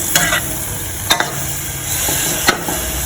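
Vegetarian basil stir-fry with straw mushrooms and long beans sizzles loudly in a pan, broken by three sharp utensil scrapes and clacks spread across the few seconds.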